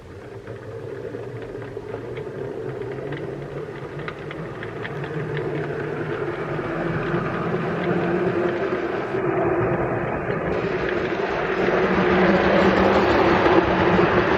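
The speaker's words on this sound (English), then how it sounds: "Approaching on the up fast is locomotive number 5034 Corfe Castle, hauling a rake of Great Western Railway collet coaches." Steam locomotive 5034 Corfe Castle approaches on the up fast line hauling a rake of Great Western Railway Collett coaches, a steady rail rumble and clatter growing gradually louder as it nears.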